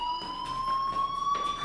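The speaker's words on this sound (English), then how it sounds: "Hey, do you hear that fire alarm?" A school fire alarm in the video game Life Is Strange gives a steady, sustained electronic tone that holds without a break at moderate loudness.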